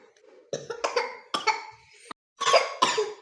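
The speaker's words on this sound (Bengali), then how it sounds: "সামনে একটুই তো মুখে দিলা, তাও আবার কাশি।" A child eating rice coughs several times in quick, harsh bursts close to the microphone, with short pauses between, no other talk heard.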